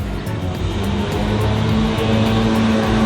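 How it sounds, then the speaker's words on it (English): A leaf blower drones steadily nearby at an outdoor beachside shopping and entertainment complex, a loud continuous motor roar with a faint rising whine, filling the air without pause. "it sounds like we're gonna get a little more leaf blower ambient noise here"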